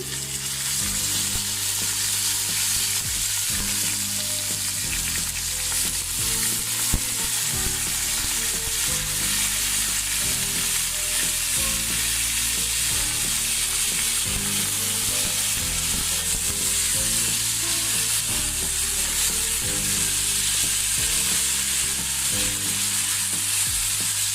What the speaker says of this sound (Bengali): আমার ভাজাটা হয়ে গেছে পেঁয়াজটা। এখন আমি এর মধ্যে চালগুলো দিয়ে দিচ্ছি।